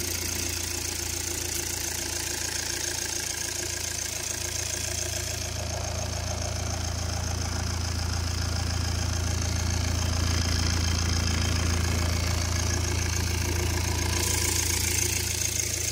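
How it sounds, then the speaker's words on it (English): A Volvo 2.0 engine idles steadily at close range after intake manifold, EGR and throttle body cleaning and a coolant refill, giving a constant low hum with a mechanical clatter that holds even throughout, with no talking. "this is how the engine is sounding and is looking."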